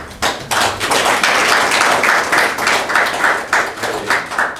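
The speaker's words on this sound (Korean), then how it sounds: "박수 쳐주시죠." Close, loud clapping from an audience at a forum event, with rhythmic bursts of hands coming in uneven waves and no voices over it.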